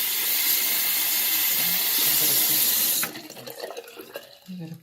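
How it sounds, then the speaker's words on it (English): Warm water streams loudly from a tap over a drain cover being rinsed clean, a strong continuous rush for about three seconds, then cuts off into softer dripping and handling sounds. "This came pretty clean after just rinsing it in some warm water."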